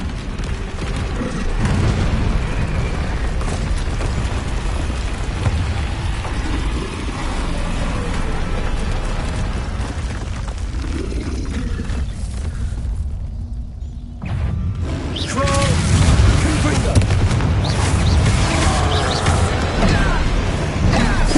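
Confringo fire spell blasts in the video game Hogwarts Legacy, loud booming explosions and crashing debris over a dense, continuous game soundscape, with a brief lull before another heavy burst.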